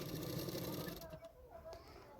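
A sewing machine runs a quick burst of stitching on a blouse belt, a fast buzzing whir for about a second that then stops, followed by quieter handling sounds.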